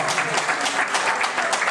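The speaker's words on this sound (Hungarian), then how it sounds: "még egy nagy tapsot nékik" A crowd at a village-day cooking contest award ceremony claps for a team, dense steady applause lasting throughout at moderate distance.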